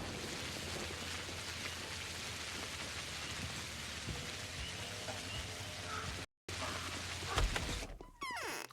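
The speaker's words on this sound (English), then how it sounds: "The rain sound is so obnoxious." Steady, dense rainfall in the game Pathologic hisses continuously at even loudness, broken briefly by a short gap, with a louder spatter near the end.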